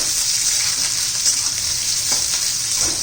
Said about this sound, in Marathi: उभा चिरलेला कांदा घालून चांगलं परतून घेऊया